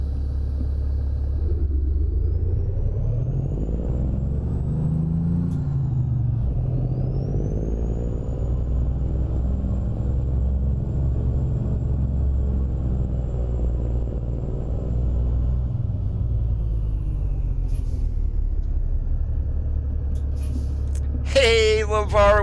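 Volvo VNL 670 truck with a Cummins engine and 18-speed transmission driving in American Truck Simulator: a steady low engine rumble throughout, rising and falling with gear changes, with a brief hiss near the end.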